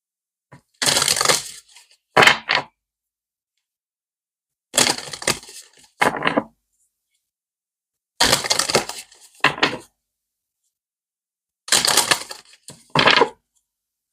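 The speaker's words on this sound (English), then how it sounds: "Let's pull an energy and spirit card. Different selection of cards today." Oracle cards are shuffled and pulled in four separate bursts, each a brisk papery riffle with sharp flicks and snaps, separated by quiet pauses.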